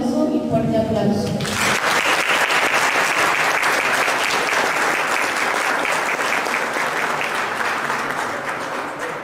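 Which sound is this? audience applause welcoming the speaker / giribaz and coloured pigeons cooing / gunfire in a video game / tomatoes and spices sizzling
audience applause welcoming the speaker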